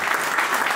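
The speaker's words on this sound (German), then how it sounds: "Könnt ihr auch mal klatschen" Audience applause at a 2020 team presentation for the Team Schäfer Shop / RSC Betzdorf cycling club: a brief, steady burst of many hands clapping together, dense and fairly loud.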